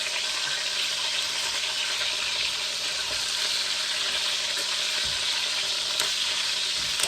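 Pork pieces fry in a pan with continuous close sizzling and spitting oil, steady and loud throughout with occasional sharper pops, no one talking.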